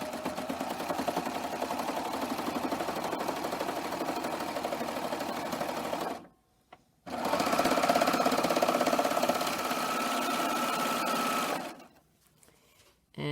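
A serger sews through layers of fabric in two long runs of fast, even motor buzz, close and loud, broken by a brief silent pause and ending in quiet.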